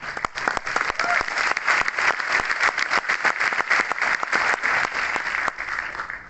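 An audience claps hard and continuously at a speaking event, a thick, sustained wall of applause lasting several seconds, close and loud, with no talking on top.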